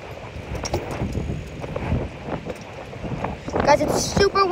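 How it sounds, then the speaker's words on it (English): Gusty outdoor wind buffets the microphone in a steady broadband rush with stronger bursts near the end, sounding close and rough with no speech. "it's super windy out today"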